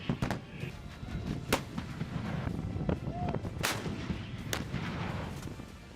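M777 howitzer artillery fires in a series of sharp, loud booming reports, several blasts spaced irregularly over a few seconds with a rumbling background between them.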